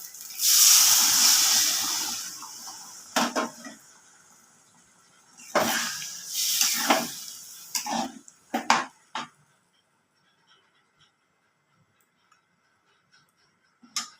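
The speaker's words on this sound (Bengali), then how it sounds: "এবার আমি পরিমাণ মতন জল দিয়ে দিচ্ছি" Water poured into a hot pan of potato curry sizzles loudly in a broad hiss, then breaks into bursts of bubbling and clattering pan sounds that fade to near silence.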